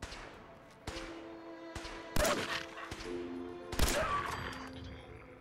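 Gunfire in the video game Fallout 4, a few loud, heavy bursts of shots and impacts cutting through a continuous low game ambience.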